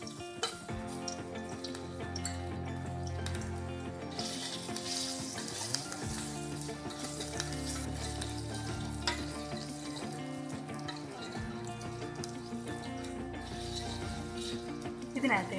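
Ginger garlic paste fries in hot coconut oil with a steady, close sizzle that runs the whole time, mixed with background music and occasional stirring sounds.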